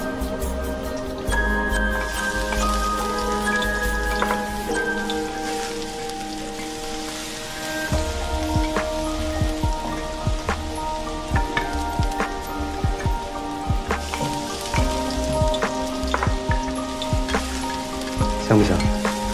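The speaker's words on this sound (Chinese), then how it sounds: "现在开始炒姜蒜。" Ginger and garlic fry in hot oil in a wok with a steady crackling sizzle, and sharp clinks of a spatula against the pan grow more frequent toward the end.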